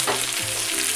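Mixed vegetables, including peppers, zucchini and bean sprouts, hiss and sizzle loudly in a wok alongside chicken. The frying stays dense and continuous at close range, with a brief scraping stir partway through.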